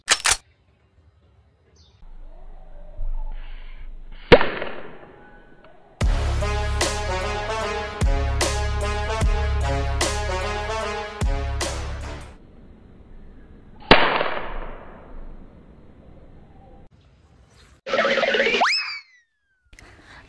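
A bamboo popgun fires soaked paper-pulp bullets outdoors, giving several sharp, loud pops spaced seconds apart, with a sustained ringing tonal passage in between.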